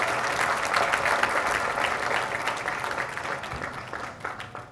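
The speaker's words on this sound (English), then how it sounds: "Give the man another round of applause, please." Audience applause for a speaker on unleashing youth potential, a full, sustained round of clapping from a large crowd, steady and loud before easing slightly at the close.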